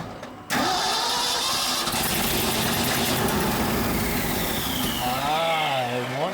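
An old dump truck engine cranks briefly and then catches, roaring into a loud, rough, steady run close by, with revs rising and falling near the end.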